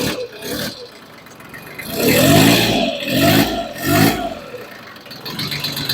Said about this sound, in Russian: Тракторок работает.